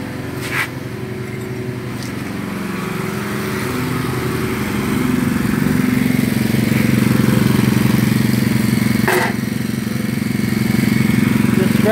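A small engine fitted with a new carburetor runs steadily with a low, throbbing drone, close and fairly loud, swelling slightly midway, with a couple of brief clicks on top.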